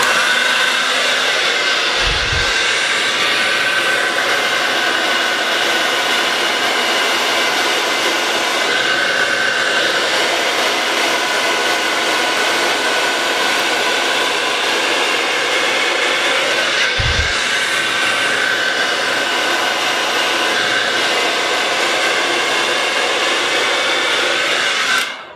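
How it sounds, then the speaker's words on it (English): A hair dryer blows continuously and loudly up close while hair is blow-dried with a round brush, its steady whooshing hum broken only by two brief low bumps, with no talking. "Let's go ahead and blow dry it and see how it looks."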